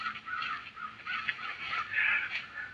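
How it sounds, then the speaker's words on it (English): Crows cawing outdoors at a haunted state park near Lake Winnebago, Wisconsin, a run of harsh, overlapping calls at moderate distance with no talk. "That's right, real crows"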